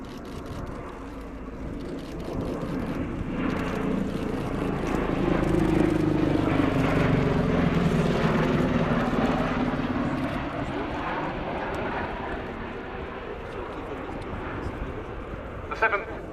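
A Bell-Boeing CV-22B Osprey tiltrotor of the US Air Force flies past at an airshow, its deep rotor and engine drone swelling toward the middle and then fading, while a commentator talks over it.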